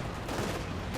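Armoured car cannon fire in Company of Heroes 2 forms a dense burst of rapid gunfire and impacts, loud and continuous across the whole moment.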